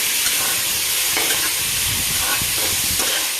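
Tomatoes stirred into a hot frying pan while cooking sambar, a steady sizzle with scraping stir strokes and soft clatter, close and continuous with no talking.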